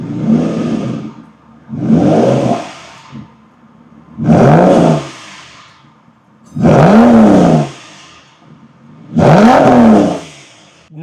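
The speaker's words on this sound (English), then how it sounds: "Give it a bit of a rev" A flood-damaged Aston Martin Vanquish engine revs five times in a row, each burst rising and falling in pitch with short idle gaps between them, loud and close.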